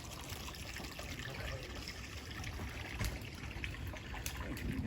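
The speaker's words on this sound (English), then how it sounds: "We have a nice little creek keeping us company tonight. Beautiful little small meadowy creek back here." A small meadow creek trickles steadily beside a camp on an off-road overlanding trip in the Warner Mountains of Northern California, a constant soft water babble with faint splashes and no voices.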